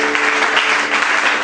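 A church congregation claps loudly and continuously in a dense burst of applause, close and full, with no pauses across the short stretch.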